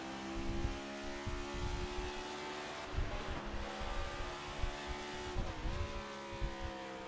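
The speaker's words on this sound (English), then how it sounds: "you hear him downshifting early, revving that thing up" A simulated race car in iRacing at Phoenix downshifts early and revs hard, its engine whining in steady harmonic tones with repeated sharp throttle blips and gear changes, loud and continuous.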